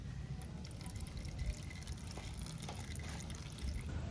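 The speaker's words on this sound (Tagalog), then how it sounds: "ito yung drain plug. Patulo na siya. Antayin lang natin yung maubos." Engine oil trickles steadily from the drain plug of a Yamaha NMAX scooter during an oil change, a soft continuous liquid stream running alone throughout.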